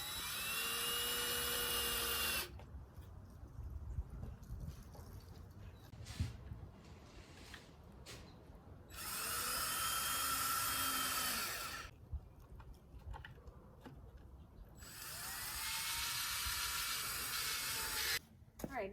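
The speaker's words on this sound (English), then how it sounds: "Same with putting your wood screws in." Power driver sinking wood screws into a cedar raised garden bed, three long high-pitched whining runs with rising motor tone, separated by quieter pauses with faint clicks and handling noise.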